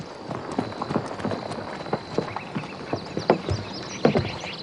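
Horse hooves clip-clop at a steady walking pace, close and fairly crisp, the irregular knocks continuing for the whole stretch with no talk.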